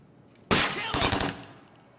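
Two quick bursts of gunfire ring out in the tactical shooter Takedown: Red Sabre, loud and close, each a short rapid volley with a sharp crack and brief echoing tail.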